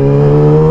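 A brief, loud engine drone with a strong steady pitch as a Yamaha R6 motorcycle is revved close by passing through a busy morning market.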